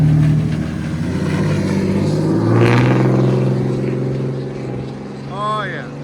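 Cummins diesel pickup truck with a 5-inch straight-pipe exhaust rumbles and revs, a deep steady drone that swells once mid-clip, with people talking over it.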